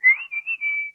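A tidy bird in a children's show gives one short, clear, warbling whistle, held for about a second in several quick bursts with nothing else around it.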